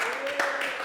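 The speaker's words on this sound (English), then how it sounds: "Please clap him to the stage." Audience applause at a blockchain business conference stage as panelists are welcomed, a brief steady wash of clapping from a crowded room with a faint sustained tone running underneath.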